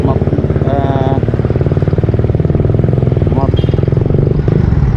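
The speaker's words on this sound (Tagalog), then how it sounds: "subukan natin kung wala na siyang pugak" Suzuki Raider FI motorcycle with stock ECU and aftermarket exhaust pipe revving loudly up close, a steady rapid engine pulse with a couple of throttle blips, while someone speaks over it.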